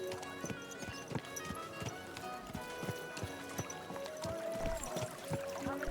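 Horse hooves clip-clopping on a street in the video game Kingdom Come: Deliverance 2, a steady rhythmic trot of close, clear hoofbeats with faint background ambience and a tonal line toward the end.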